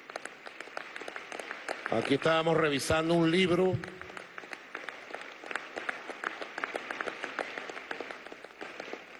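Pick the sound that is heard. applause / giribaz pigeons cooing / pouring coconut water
applause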